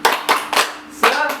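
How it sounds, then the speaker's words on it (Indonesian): A small group claps a rhythmic cheer pattern, three quick bursts followed by a pause and a fourth clap, close and moderately loud with no talking over it. "Tepuk semangat."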